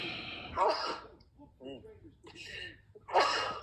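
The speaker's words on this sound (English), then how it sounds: "I'm about to sneeze." A sudden sneeze bursts out near the microphone, with gasping breaths and bits of talk around it.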